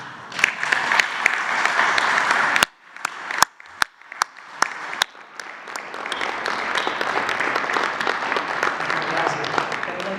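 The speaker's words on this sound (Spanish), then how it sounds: "un aplauso para ustedes" A crowd bursts into steady applause, with a few sharp isolated claps in a brief lull before the clapping swells back and carries on.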